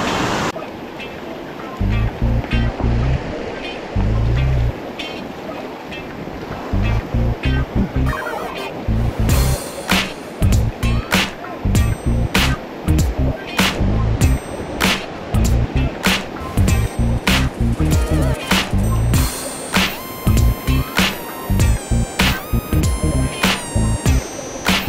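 Strong river current rushing waist-deep near Depalyon Falls in General Nakar, Quezon, a loud continuous broadband roar of water with splashes and knocks throughout.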